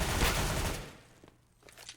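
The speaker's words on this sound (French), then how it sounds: "Existence qui va courir sur son adversaire et qui va tomber sous les balles de Getright." Gunfire in a professional Counter-Strike match on the Mirage map, a short, moderately loud burst of rapid shots that fades within a second into quieter scattered game sounds.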